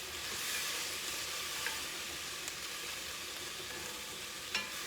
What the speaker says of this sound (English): Stir your meat.